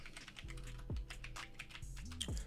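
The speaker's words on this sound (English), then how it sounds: "me typing in Clint Capella actually didn't do anything" Rapid keystrokes on a computer keyboard clatter steadily throughout, close and clear, with no voices.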